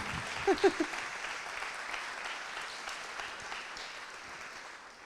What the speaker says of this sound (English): So the warm applause.